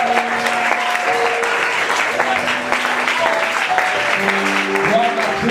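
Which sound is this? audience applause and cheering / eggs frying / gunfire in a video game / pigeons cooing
audience applause and cheering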